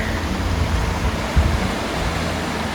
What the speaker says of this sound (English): here's the waterfall going out to the Pacific Ocean right there, where land water meets seawater